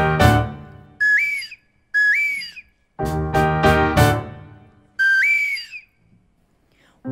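Several loud whistled calls imitate a strange woodbird crowing in a fringe stage show, each a rising, warbling phrase in short bursts separated by brief pauses and other stage sounds, heard clearly and close.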